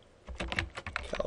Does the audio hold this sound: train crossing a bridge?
no